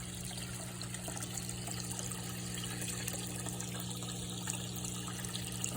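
Water from a 700-gallon-per-hour pump spilling over the waterfall spillway of a Tetra bog filter in a small DIY goldfish pond at night, a constant even trickle and splash with a low pump hum beneath.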